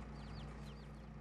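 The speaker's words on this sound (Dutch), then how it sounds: "Zoals je kunt zien zitten hier de kippen in. En de keukentjes. En de haan." Chickens, chicks and a rooster in the Farming Simulator 22 video game give faint, scattered clucks and chirps over a steady low hum, with no voices.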